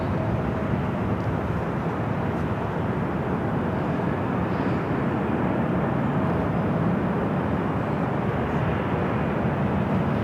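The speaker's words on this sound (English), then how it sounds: "Next arrival is Southwest Airlines flight 1600 coming in from Reno," A Southwest Airlines Boeing 737-700 arriving at LAX, heard as a continuous loud, broad engine roar with no distinct change in level.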